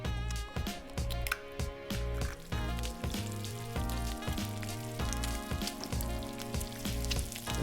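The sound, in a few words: egg frying in a pan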